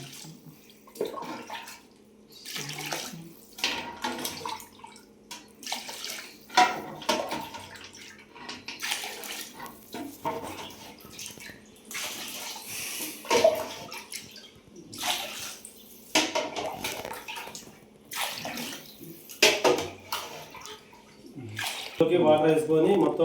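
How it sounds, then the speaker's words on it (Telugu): Water measured with a cup and poured onto rice in bursts of splashing and trickling, with pauses between pours, while people talk throughout. "కప్పుతోని కొలుసుకొని వాటర్ వేస్తున్నాడు."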